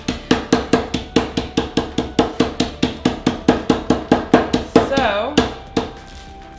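Nuts for a peach crisp are chopped finely with a knife, giving about twenty sharp, evenly spaced knocks on a board, a brief scrape and pause, then a few last strikes.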